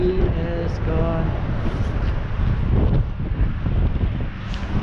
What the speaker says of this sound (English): it's a bit of a windy day today